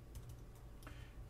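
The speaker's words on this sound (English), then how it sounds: "So if I type in" Quick clicks of typing on a computer keyboard while entering values into design software, a short, close run of keystrokes with no talking.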